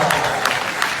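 Brief burst of audience clapping at a live concert performance, a short dense patter of hands lasting about a second with a faint murmur of voices beneath.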